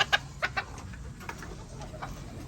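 Chickens being fed cluck softly nearby in short, scattered bursts, with a few sharper calls early on, over a quiet outdoor background and without speech.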